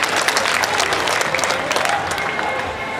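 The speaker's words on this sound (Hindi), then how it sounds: "जोरदार तालियां बजाकर मुझे आदेशित करें" An audience at a Hindi poetry gathering (kavi sammelan) at a fair claps loudly, a dense burst of applause that holds steady and fades slightly toward the end.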